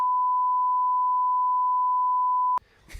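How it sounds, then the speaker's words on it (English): A steady, loud pure-tone censor beep holds unbroken for about two and a half seconds, then cuts off abruptly into a short burst of faint room noise. "But I'm going to beep that out."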